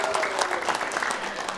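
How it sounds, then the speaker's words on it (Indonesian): An audience applauds candidates at a mayoral debate in Ternate, a steady wash of many hands clapping at moderate distance, continuous and even throughout. "Kita boleh minta tepuk tangannya sekali lagi yang meriah untuk siang hari ini."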